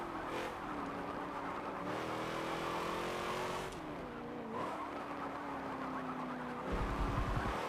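A race car engine in Forza 7 drones steadily with shifting pitch through an online A-class race, with tyre squeal and a revving surge near the end.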